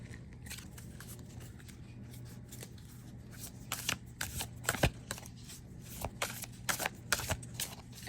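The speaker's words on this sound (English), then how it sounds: "So, I mean, it shuffles pretty well." A tarot card deck being shuffled by hand, with quick bursts of riffling card flicks clustering in the second half, close and fairly quiet against a low background hum.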